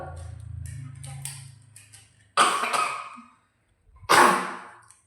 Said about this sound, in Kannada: ಯಾರ ಮನೆಗ ಸಿಕ್ಕಾಪಟ್ಟೆ ಘಾಟಿ ಇಟ್ಬಿಟ್ಟವ್ರು ಅವಾಗಲಿಂದ ಕೆಮ್ಮು ಬರ್ತೈತೆ